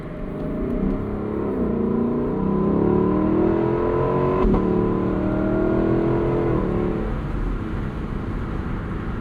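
A Lexus LC 500 convertible's V8 revs toward its 7,000 rpm redline, a loud cabin-side drone climbing through gears with a quick upshift midway, then easing off; no talking.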